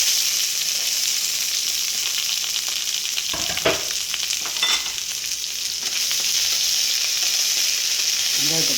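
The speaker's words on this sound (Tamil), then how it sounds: "வெங்காயத்தை போட்டு வணக்குவோம்." Onions sautéing with dried red chillies and curry leaves for sardine tokku, a loud continuous sizzle close up with a few stirring scrapes and clinks partway through.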